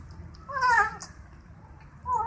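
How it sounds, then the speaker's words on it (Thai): A small kitten found on a road median gives a brief, faint, high meow, somewhat distant, with a quieter second call at the end over low background rumble. "ได้ยินเสียงแมวแว่วๆเหมือนแมวเด็ก"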